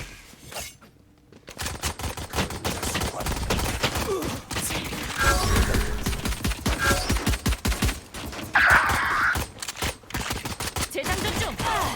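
Rapid gunfire in the tactical shooter Valorant, with dense bursts and fast repeated shots running almost continuously at close range, broken by a short quiet pause near the start.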